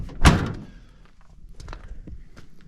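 A pickup or work truck cab door thunks hard once as it is pushed shut and fails to latch, followed by fainter rattles and handling noises close by.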